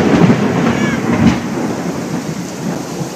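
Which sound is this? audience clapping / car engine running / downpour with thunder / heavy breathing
downpour with thunder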